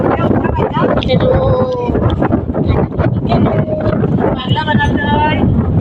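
Strong wind on a fishing outing buffets the microphone with a constant roar while voices talk over it.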